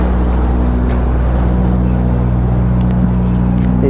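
Steady low engine drone of a private houseboat idling on the Kerala backwaters at Alleppey, a constant close hum with faint background noise and no talking.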